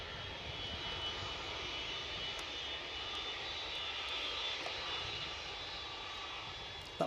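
A United airliner moves on the ground at Edinburgh Airport, its jet engines making a faint, distant, steady drone throughout, with no voices.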